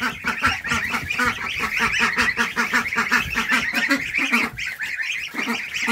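A single aggressive duck at a feeding spot honks and quacks loudly and continuously at close range, rapid repeated calls with no talk.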